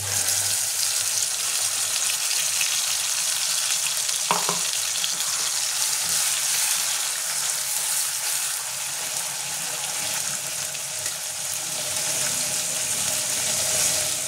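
Spice paste for butter chicken fries in a pan with a loud, steady, close sizzle that runs unbroken throughout, with one faint clink early on and no talk.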